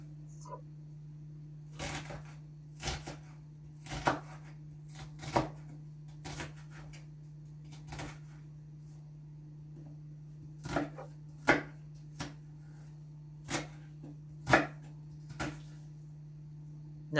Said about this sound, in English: I'm just trying my best to mince up the onion